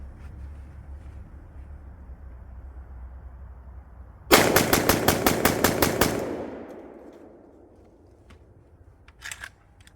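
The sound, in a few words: Riley Defense RAK47 rifle firing a 10-round magazine dump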